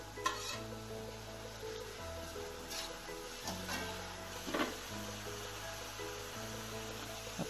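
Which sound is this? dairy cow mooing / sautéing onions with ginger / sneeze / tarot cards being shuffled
sautéing onions with ginger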